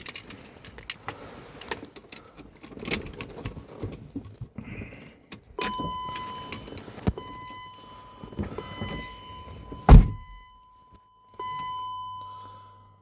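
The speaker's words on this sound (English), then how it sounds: "Going back in the car, keys." Someone gets into a 1998 pre-facelift BMW Z3 with keys: keys jangle and rattle close by, the door shuts with a heavy thud, and soft electronic chimes sound in the quiet cabin.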